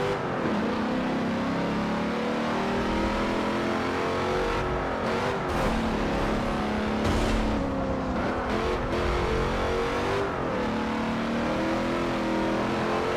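An off-road truck races around a track in the Forza Motorsport 7 game, its engine droning and revving continuously with rising and falling pitch through gear changes, loud and steady throughout.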